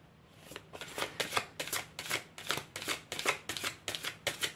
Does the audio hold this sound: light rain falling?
no